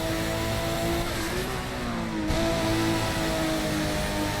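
A Nissan GT-R engine drones steadily in the racing game Midnight Racing Tokyo, a constant mid-level hum with a brief dip and recovery partway through as the car takes a corner, no voices over it.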